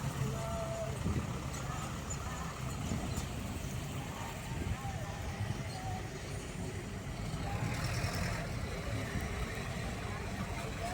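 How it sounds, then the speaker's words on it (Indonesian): A Ragasa dump truck's engine rumbles at a railway level crossing amid steady broadband traffic noise, with low continuous drone and occasional brief clatter; people talk faintly in the background. "Ada truk Ragasa."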